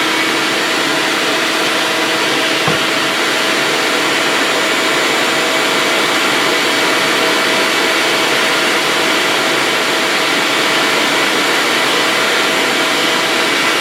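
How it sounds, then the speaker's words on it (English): A shop vac hooked up to a bucket for sanding dust roars steadily and loudly without pause, a constant broadband whoosh with a faint whine. "I set up the shop vac where I connect it to a bucket"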